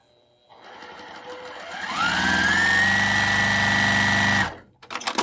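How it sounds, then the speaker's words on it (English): A sewing machine stitches quilt block units together, starting up and running in a steady, close, loud whir for a couple of seconds before stopping abruptly, followed by a few light clicks. "I'm just going to sew these together really quick"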